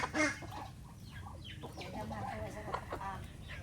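Ducklings on a farm being herded by a child give a scatter of chirping, clucking calls up close, with voices speaking intermittently over them.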